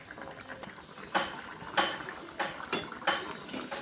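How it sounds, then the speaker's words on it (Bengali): Vegetables and sugar stirred in a pan, with repeated metallic scrapes and clinks of a spoon against the pan over a soft bubbling simmer, at moderate distance and fairly quiet. "চিনি দিয়ে আমি একটু ভালো করে নেড়ে চেড়ে দিলাম"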